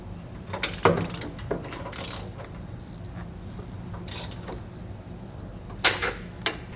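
Leaf spring bolts being snugged up with a 15mm ratchet during a RoadActive Suspension leaf spring enhancement kit install on a Ford F-150, giving scattered ratcheting clicks and metallic clanks at close range over a steady low background hum.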